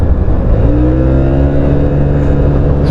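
A 2023 Italjet Dragster scooter accelerates, its engine note climbing steadily in pitch as it pulls away, loud and close with road noise, no voices.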